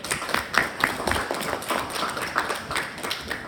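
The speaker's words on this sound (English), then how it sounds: "give them a big round of applause" A small audience at a medical case discussion gives a round of applause, soft scattered clapping that stays fairly quiet throughout.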